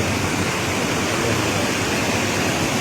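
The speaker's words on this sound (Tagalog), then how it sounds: "Kasi yung tubig papatak galing dito." Water falling and flowing into a pool at an eco park in Cavinti, Laguna, a dense continuous rush and splash, loud and close without pause.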